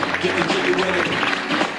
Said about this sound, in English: Let's give a round of applause to Aaron.